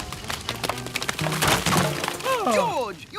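A cartoon crash as a character is smashed into a termite mound in a jungle desert scene, a burst of splintering, breaking thuds and cracks followed by swooping comic sound effects.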